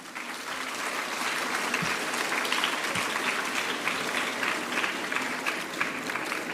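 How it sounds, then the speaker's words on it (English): An audience at a Gonzaga Day celebration claps steadily in a dense, sustained wave of applause that fills the room. It is loud and continuous, with no distinct voices. "Can we give them a torrential round of applause"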